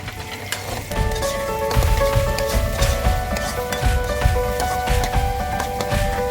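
Green chili and onion frying in a pan, a steady hiss and crackle of sizzling oil that holds throughout, close and fairly loud, with no talking.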